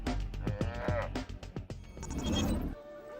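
A foot-tall miniature patio cow lets out a full, drawn-out moo, loud and close, with no voices over it.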